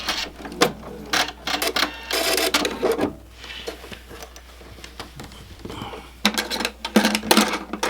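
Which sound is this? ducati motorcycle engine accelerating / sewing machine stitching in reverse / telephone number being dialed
sewing machine stitching in reverse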